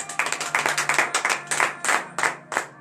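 A church congregation claps in acclamation during a Friday morning prayer service in Benin, with a steady series of sharp, rhythmic hand claps close by, a low hum underneath and no talking.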